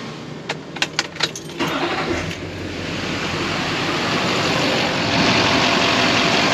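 Keys jingle and click, then a car engine cranks and catches during an alternator output test, settling into a loud, steady running drone that holds evenly to the end.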